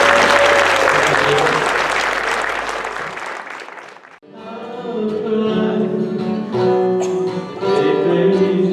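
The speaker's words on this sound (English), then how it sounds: "Let's hear a round of applause." An audience at a closing ceremony claps in a dense, loud burst for about four seconds, then the applause cuts off and music with singing takes over.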